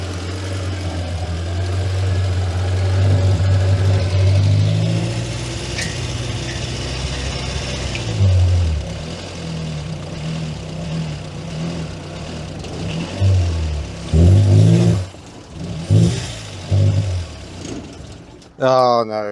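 A Morris Minor engine cranks in bursts as a screwdriver bridges the starter solenoid, the labored churning starting and stopping in uneven spells, with a brief exclamation from a nearby voice.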